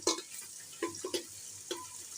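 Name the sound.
chopped onions frying with cardamom, cinnamon, cloves until brown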